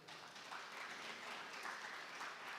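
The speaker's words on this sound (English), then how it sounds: "Can I have a round of applause?" Steady applause from a conference audience at an agriculture dialogue, a dense, even wash of clapping heard from a distance, faint and continuous.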